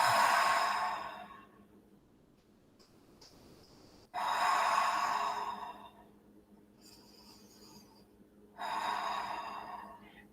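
Slow, deep breaths during a yoga child's pose come close and clear, three long exhales roughly four seconds apart with quiet pauses between them.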